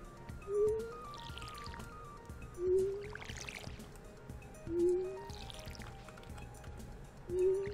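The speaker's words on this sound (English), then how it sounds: "We can water that empty spot." Watering can pouring onto crops in Stardew Valley, a short splashing pour repeating four times at steady intervals about two seconds apart, over quiet game background music.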